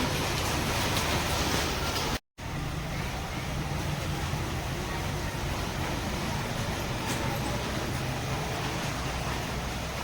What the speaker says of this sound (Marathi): जोरात जोरात पाऊस चालू झालाय दुपारी.